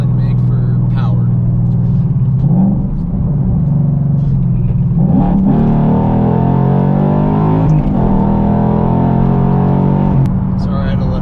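Ford Mustang S197 engine revving hard, a loud close rumble that swells and surges through repeated throttle blips, deep and throaty with harmonics climbing midway, running continuously with no talk over it.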